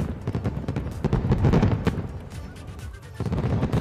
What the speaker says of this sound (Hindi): लेजर शो के बाद जो आतिशबाजी हुई उसने किस तरीके से रंग बिरंगी लाइट से आसमान को भर दिया